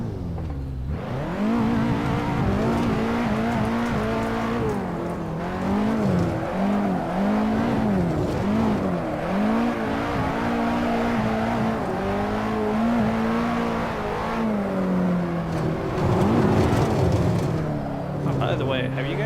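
Engine revving with tire squeal from a drifting car in a racing video game, a loud continuous drone rising and falling in pitch with throttle, while someone talks over it.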